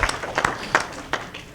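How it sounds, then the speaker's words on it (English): A symposium audience gives a brief round of applause, a few scattered claps in separate bursts rather than a sustained ovation, set in a room with some faint background murmur. "I'd like to give him a round of applause"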